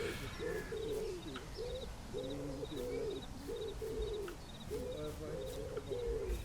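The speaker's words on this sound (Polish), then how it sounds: "Jeszcze te ptaki cały czas latają, straszą mnie." Birds coo steadily outside an abandoned house at night, soft dove-like calls repeating in close succession, with faint higher chirps over a constant low rumble of background noise.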